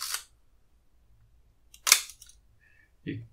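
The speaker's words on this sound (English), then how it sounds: "Could you hear the slow speed escapement right there?" Three separate mechanical clicks from a Leica MP camera's shutter at slow speeds, spread over a few seconds: a sharp snap near the start, a buzzy click with a short whirring tail from the slow speed escapement in the middle, then a softer final click.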